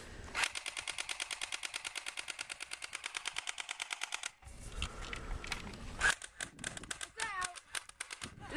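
M85 airsoft gun firing a rapid full-auto burst of about forty evenly spaced shots at a target 36 feet away, loud and close, followed by quieter handling clatter and a few scattered pops.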